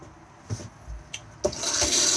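A Thetford cassette toilet in a Benimar Mileo 282 motorhome washroom flushes with a short rushing gush of water after a few small clicks, close and fairly quiet, with no talk.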